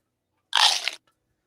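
A crisp apple is bitten once as a sound effect, a single loud, close, wet crunch lasting about half a second, then silence.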